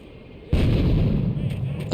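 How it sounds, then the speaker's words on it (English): A grenade explosion in Grand Theft Auto 3: a sudden loud boom after a quiet half second, followed by a sustained rumbling roar that fades slowly. "I'm going to chuck a few grenades in there"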